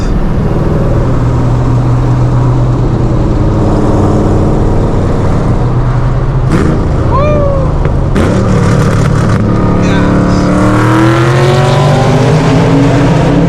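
A Chevrolet Camaro engine roars and revs hard with echoing reverberation, rising in pitch as it accelerates through a tunnel, loud and continuous.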